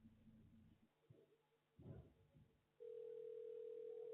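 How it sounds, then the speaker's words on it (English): A phone call rings back faintly through a handset, with a steady ringback or dial tone that holds loudly over the final second and a half after soft background noise and a brief murmur. "Can you guys hear it ringing? Like, faintly?"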